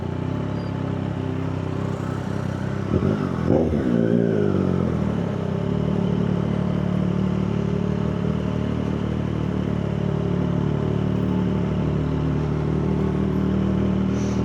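A Triumph 765 R motorcycle rides through slow Makati traffic, its engine a steady low rumble with a brief rev and rising whine early on, then settling into an even idle-paced drone with surrounding road noise.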